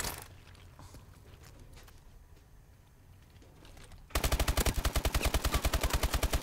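Rapid automatic gunfire from a pistol in the shooter game Call of Duty: Advanced Warfare erupts loudly after a quiet stretch, a steady stream of sharp shots lasting about two seconds.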